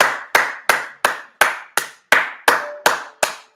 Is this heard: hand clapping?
yes